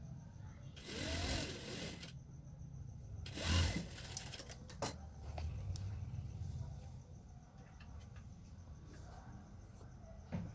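Sewing machine stitching green coloured piping onto the legs of a ladies' pant, quiet close whirring bursts of stitching with short pauses and light handling clicks between runs.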